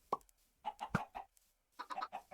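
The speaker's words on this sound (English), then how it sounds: "I'm distracted by the chickens." Chickens in Minecraft give several short, bright clucks and plopping pecks in two quick clusters, close and clear against a quiet background.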